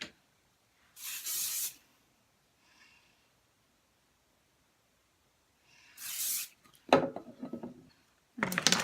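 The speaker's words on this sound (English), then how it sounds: "what the hairspray is going to do is just make sure all of those curls are sort of stuck together" Hairspray hissing from an aerosol can onto freshly set curls in short bursts, two clean sprays separated by quiet, followed by a few rustles and another spray near the end.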